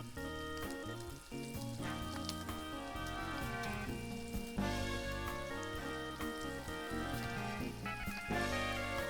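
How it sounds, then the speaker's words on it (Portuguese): Meat sizzles and fries steadily as it goes into a pan with sauce, a dense continuous crackle close up, with music playing along underneath and no talk. "vamos direto para a panela com a carne"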